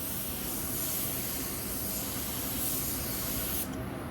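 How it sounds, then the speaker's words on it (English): A paint spray gun lays a pearl paint coat onto a spray-out card, giving a continuous, loud, close hiss that holds steady for several seconds and then cuts off abruptly near the end. "I'm spraying this spray out card the same way I'm gonna spray my car"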